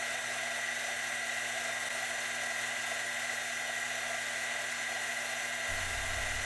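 A continuous high-pitched whine of a small rotary tool running steadily with foam-backed sanding pads over 1,000 grit, polishing a clock mainspring barrel arbor, with a slight shift in its hum near the end.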